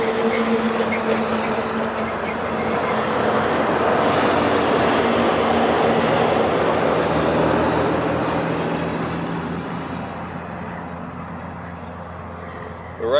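A FedEx Boeing 777 taxis out toward the reef runway, giving a steady loud jet engine roar with broadband rumble that holds for most of the stretch before easing off near the end.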